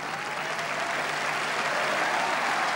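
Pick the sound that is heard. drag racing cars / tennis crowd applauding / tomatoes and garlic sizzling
tennis crowd applauding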